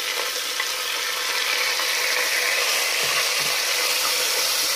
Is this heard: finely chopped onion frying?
yes